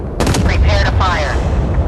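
Warship guns firing in the naval combat video game Force of Warships, a loud burst of several overlapping booming shots with a sweeping whine, continuous over under two seconds.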